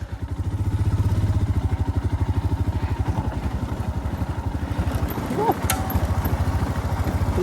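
A Royal Enfield-style Scram motorcycle thumps along an off-road hill track, its engine pulsing in a fast, even beat close by, with a rider talking over the steady throb and a brief bump midway.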